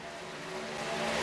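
Race cars coming down a track, their engines a broad, steady roar that grows gradually louder as they approach, heard alone without voices.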